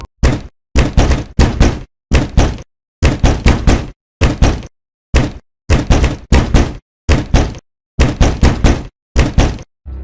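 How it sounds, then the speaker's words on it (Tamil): Hard knocking on a door, delivered in repeated bursts of three or four heavy thuds separated by short silences, loud and close, with no voices. "கதவை யாரோ ஓங்கி தட்டுற மாதிரி சத்தம் கேட்டிருக்கு"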